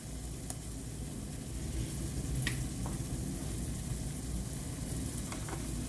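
Margarine and milk being stirred together in a hot pan, with a steady sizzle under a continuous low background hum and a few faint clinks.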